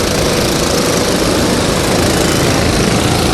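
Junior racing kart engines roar together at the start of a race, a dense, loud, continuous buzz of many small engines blending into one steady wall of sound with no gaps.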